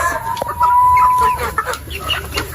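A young Darag hen, a native Philippine chicken breed kept in a ranging space, gives a loud run of close clucks with a short rising squawk.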